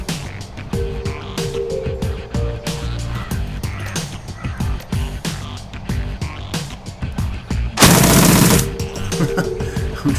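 Shotgun spread shot in the tactical game Shadowrun Returns, amid a steady stream of rapid clicking combat sounds, with one loud, sustained, roaring blast near the end.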